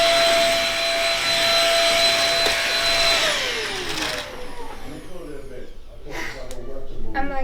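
Vacuum cleaner running in a home, a loud steady whine that winds down partway through, leaving a lower rumble with scattered clatter and bumps as it moves around.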